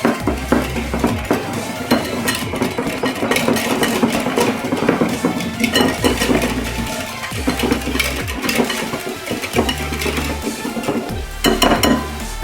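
A souffle pancake batter of flour, baking soda, baking powder and a pinch of salt is mixed in a bowl, giving a steady, busy scraping and clinking of utensil against the bowl that continues without letup.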